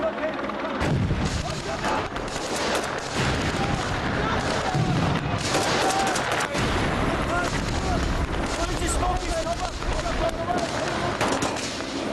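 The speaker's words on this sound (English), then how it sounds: "They should be opening fire around about any time now" Gunfire from an enemy force during a desert special forces military exercise: dense, continuous rattling bursts and heavy booming shots under loud, noisy conditions, with voices talking throughout.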